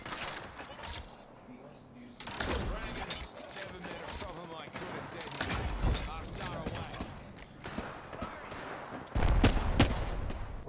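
Distant gunfire in the video game Apex Legends: scattered bursts and single cracks, fairly faint, under mechanical game sounds while players talk over it.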